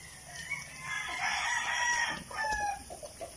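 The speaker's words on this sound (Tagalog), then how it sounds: "Nag-aalmusal na sila manokis." Fighting roosters being fed breakfast on a farm crow and cluck close by at moderate volume, with a long crow in the middle and scattered clucks and faint feeding noises around it.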